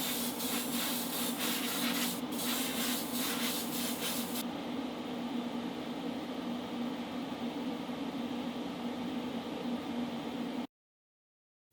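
An aerosol spray can hisses in a steady continuous stream while coats of paint go onto a Hot Wheels Boneshaker die-cast car, with a few short sputters early on before the sound cuts off.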